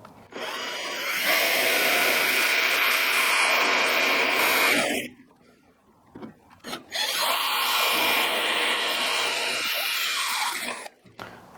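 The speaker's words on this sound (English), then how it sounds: "the drill bit could jam as it passes through the hole" A power drill whines steadily as it bores through a metal bracket during a kit car fuel tank install, pauses briefly, then drills again for several seconds, loud and close with no talking.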